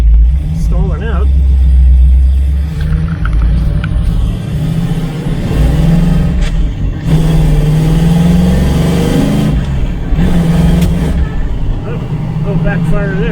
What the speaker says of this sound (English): Oh, backfire there.